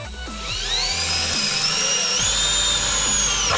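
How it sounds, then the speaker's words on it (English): A power drill bores a pilot hole for self-tapping screws during a front disc brake job, its whine rising in pitch as it spins up and holding steady, close and loud. "I'm gonna drill a hole here."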